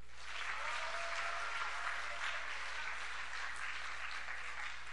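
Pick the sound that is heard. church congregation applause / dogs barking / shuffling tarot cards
church congregation applause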